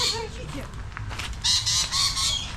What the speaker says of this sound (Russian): Ну, какие-то птицы. Попугай.